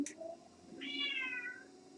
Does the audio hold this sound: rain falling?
no